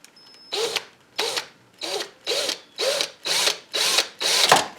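A power drill with a smaller size 22 bit works on a 1974 Suzuki TC 125 motorcycle during a rebuild, giving eight short, evenly spaced whirring bursts that grow slightly longer and louder toward the end.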